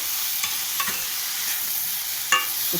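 A spatula stirs chopped ridge gourd with turmeric and salt in a pan, with steady sizzling and a few scraping strokes up close and no voices.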